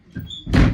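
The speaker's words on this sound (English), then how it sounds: "Let me shut this door real quick." A door being pulled shut indoors, a short squeak of the hinge followed by a solid thud as it closes, close and loud, single event with no talk.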